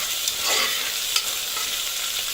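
Small sambar onions frying in a pan give off a steady, bright sizzle from start to finish, with a couple of faint stirring scrapes and no talking.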